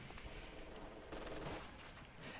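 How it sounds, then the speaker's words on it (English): MG42 machine gun laying down suppressing fire in Company of Heroes 2, a continuous rattling burst of rapid shots, faint and somewhat distant, with no talk over it. "MG42 suppressing"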